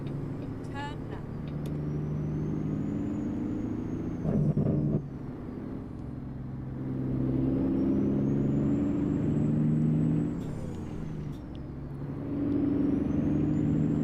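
A truck engine in American Trucker Simulator drones steadily, its pitch dropping and climbing as gears shift several times, with a brief hiss like an air brake, while someone talks over it.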